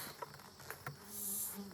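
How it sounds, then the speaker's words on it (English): Honey bees buzz around an opened hive during an inspection, a close, wavering drone with a few brief louder passes of individual bees, short and faint with no voices. "So there are a good bit of bees up here"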